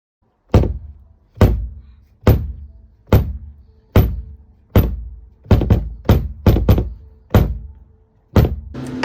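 Homemade kick drum built from a suitcase, struck about a dozen times in a loose beat, each hit a deep, boomy thump with a short decay, loud and close with no voices.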